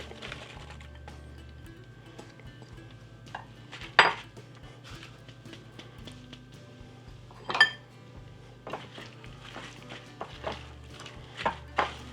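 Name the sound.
mixing apples into batter in a bowl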